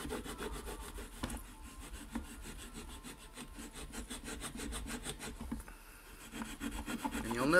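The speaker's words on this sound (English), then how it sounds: "I'll just take this nut off and really get it polished and shined up." A nut from a vintage Singer 401a sewing machine is rubbed and polished by hand, making a continuous close scratchy rubbing in quick back-and-forth strokes at low volume.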